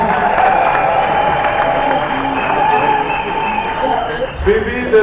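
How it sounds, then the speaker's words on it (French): Applause and crowd noise from a large audience, with cheering and voices mixed in, fairly loud and continuous throughout. "Applaudissons s'il vous plaît."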